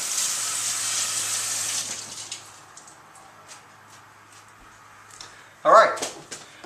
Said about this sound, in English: I suggest that you should wash it just for a split second in the water so you